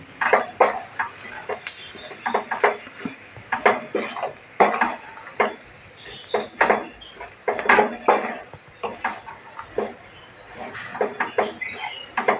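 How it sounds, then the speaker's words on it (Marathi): Jowar flour being roasted in a pan, with a utensil repeatedly scraping and tapping the metal in an uneven rhythm, close and clear with no talking. "ही मोठी वाटी पीठ घेतलं आहे मी ते परत भाजणार आहे"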